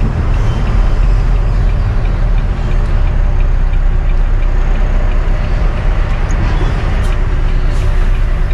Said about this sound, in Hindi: लोग ट्रैफिक लग गया है.